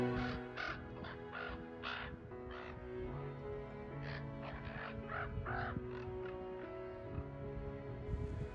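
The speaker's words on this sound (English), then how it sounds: "The crows were putting on a show, their raucous laughter showcasing their acrobatics." Several crows caw raucously outdoors on a mountain trail, with repeated harsh calls in irregular bursts, some overlapping, over a low steady background hum.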